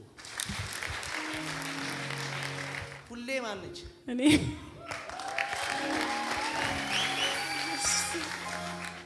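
An audience bursts into clapping that swells and holds for several seconds, mixed with a speaker's voice and a background musical tone.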